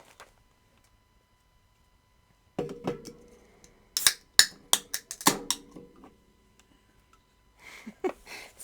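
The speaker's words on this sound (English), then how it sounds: "Excuse the noise, my daughter just come up to give me a can of Coke to open." Can of Coke being opened nearby, a cluster of sharp metallic clicks and snaps with a brief rustle of handling, fairly faint and without talk, more rustling near the end.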